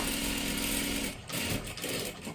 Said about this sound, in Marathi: हे पहा अशा पद्धतीने परत एकदा डबल शिलाई